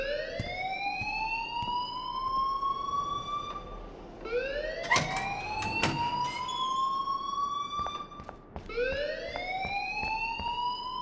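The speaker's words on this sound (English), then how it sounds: "please turn off that alarm since that's your job" A fire alarm rings in the video game Life is Strange, a repeating rising electronic whoop with bright harmonics, sweeping up three times across the stretch and punctuated by sharp clanks and knocks, steady and fairly loud with no talking.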